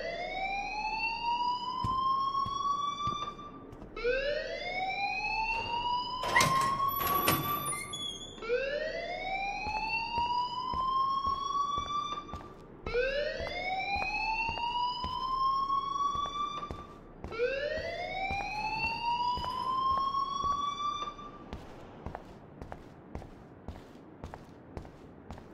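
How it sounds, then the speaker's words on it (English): A school alarm in a video game sounds loud and close, five rising electronic whoops repeating in a steady cycle, with a brief clatter between two of them. "please turn off that alarm since that's your job"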